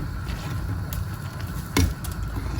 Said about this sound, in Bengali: আমি 5 প্যাকেট নুডলস দিয়েছি। সুন্দর করে হচ্ছে মিশিয়ে দিচ্ছি, উপরেরটা নিচে দিয়ে দিচ্ছি